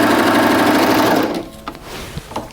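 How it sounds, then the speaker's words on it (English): A Baby Lock serger stitching elastic into a shoulder seam, running loud and steady with a fast mechanical whir that stops about halfway through, followed by a few soft handling clicks and thumps. "and I'm just going to continue sewing"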